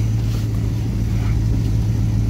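A carbureted car engine with a Thermoquad carburetor idles at 800 RPM: a loud, steady low rumble holding an even idle, with no revving or changes in pitch.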